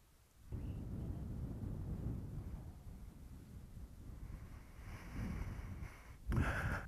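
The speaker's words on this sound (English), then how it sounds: "Oh, the wind's picking up a bit now too." Wind gusts across an open hillside slope used for flying a model glider, a steady low rumbling buffet on the microphone that swells slightly before a louder burst at the end.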